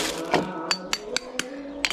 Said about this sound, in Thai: เขาจะมาตอกไข่กันเราทุกคน